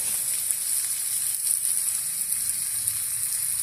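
Seasoning spluttering in hot oil in a pan for a Telugu ridge gourd and dried fish curry, a steady dense crackling sizzle, close and continuous with no talking.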